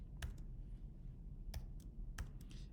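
Computer keyboard keys are tapped a few at a time while entering a formula, sparse crisp clicks, close but faint over a low hum.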